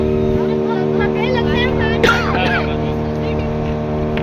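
A steady, loud motor drone from a boat engine crossing the sea off Goa runs throughout, with voices talking over it and a brief splash or rattle midway.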